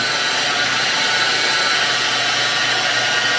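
A power buffing wheel polishes Ekopoly Premium paint at high speed, giving a loud, unbroken whirring hiss that stays steady throughout the short stretch, with no talking.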